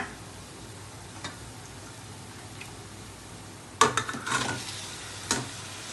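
Chicken pieces frying in a pan, a soft steady sizzle under light stirring, with a few sharper scrapes and clinks of the utensil against the pan near the end.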